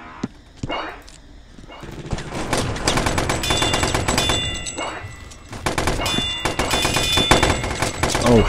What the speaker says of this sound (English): he's got a chain gun.